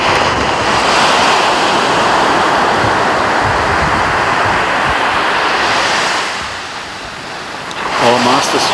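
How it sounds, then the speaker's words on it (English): Small, clean ocean waves breaking at Myola campground, a loud continuous wash of surf with wind noise that dips near the end, when a voice briefly speaks. "Here's some clean small waves at Myola campground"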